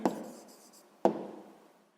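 Two short scratchy strokes of a pen or pencil writing down a math answer on paper, close and quiet, each fading quickly with no voices.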